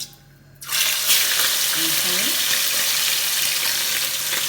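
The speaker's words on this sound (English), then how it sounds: "Okay guys, frying time, frying time." A sudden loud hiss and crackle of fish hitting hot oil, settling into continuous sizzling, close by.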